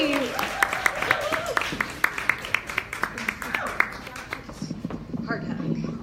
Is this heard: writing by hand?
no